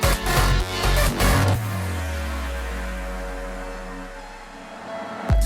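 Second break of the club mix of a song, a dense electronic dance passage with rhythmic hits for the first second and a half, then a long sustained deep bass note under a wash of synth chords, loud and unbroken.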